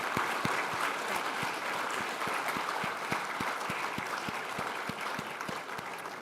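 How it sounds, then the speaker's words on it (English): A conference audience on World War II applauds in a steady wash of clapping, heard from a distance. A few sharp, rhythmic claps stand out close by throughout, at a moderate level. "Ladies and gentlemen, round of applause."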